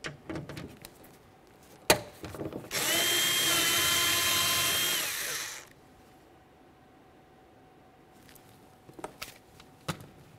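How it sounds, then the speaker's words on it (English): A power tool whirs for about three seconds removing an 11mm bolt from the window channel inside a 2001-2005 Ford Explorer Sport Trac door, preceded and followed by faint clicks and handling knocks. "Let's remove this bolt."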